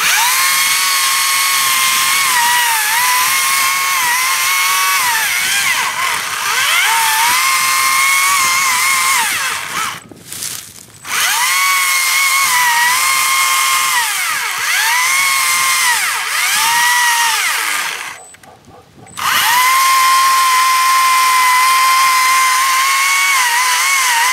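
A small battery-powered chainsaw whines at high revs as it cuts a tree trunk, pitch dipping under load, with two brief pauses where the motor stops before cutting resumes.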